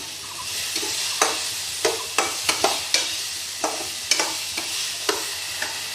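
Four green chilies fry in a hot pan with a continuous sizzle, punctuated by a run of sharp, close clinks and scrapes from stirring, with no voices.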